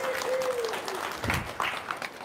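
Audience applause at an Indonesian lecture gathering, a short burst of scattered clapping near the start, fairly faint, with murmuring and a voice behind it.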